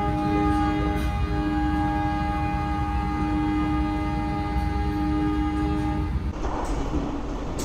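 Kutojaya Selatan passenger train pulling out of Kutoarjo station, a steady loud rumble of rolling wagons with sustained horn-like tones throughout, the sound shifting near the end as the carriages pass close by.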